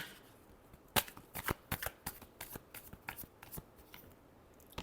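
Tarot cards shuffled by hand in a run of crisp riffling snaps and soft flutters, close and fairly quiet, with one sharp slap near the start and no talking.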